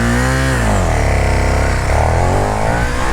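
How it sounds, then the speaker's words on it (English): KTM motorcycle engine held at launch control around 8,500 RPM, then released: a loud, close, raspy high-revving roar with pitch sweeping down and climbing again as the bike pulls away, no talk. "That was the very first time I ever did launch control on this bike."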